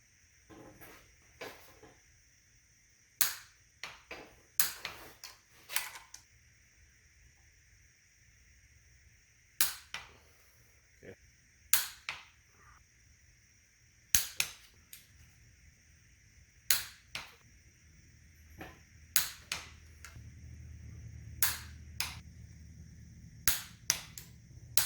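A torque wrench tightens head studs on a Honda K20 engine, producing a series of sharp, close clicks spaced irregularly over a quiet background hum, with a low rumble near the end.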